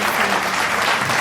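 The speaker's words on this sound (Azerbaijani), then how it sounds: "Alqışlayaq yoldaşımızı." A class of children clapping for a classmate's handicraft, steady dense applause filling the whole short moment, loud and close with no pause.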